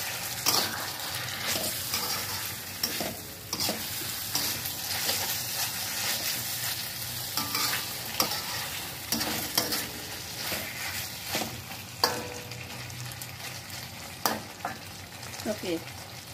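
Fried eggplant is stirred in a hot pan with chili for an oyster sauce dish, giving a steady broadband sizzle broken by scraping spatula strokes and occasional clinks, close and continuous with no voices.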